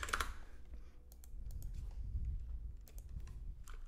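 Scattered keystrokes on a computer keyboard, irregular clicks in short bursts over a low steady room hum, fairly close and soft, with no talking.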